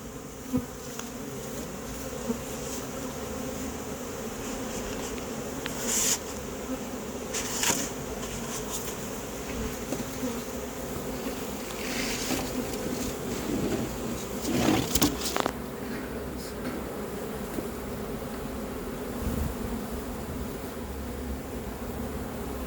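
Honeybee swarm buzzing steadily around a hive, a dense continuous drone with individual bees passing close now and then, alone without talk.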